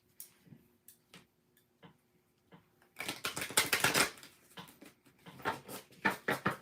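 Tarot cards being shuffled by hand: scattered soft ticks and flicks at first, then a dense, loud burst of rapid riffling patter, followed by further bursts of quick card slaps, close up with no talking.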